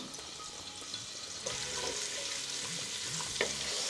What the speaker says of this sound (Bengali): 1 মিনিট আমি রসুনটা বাজলাম।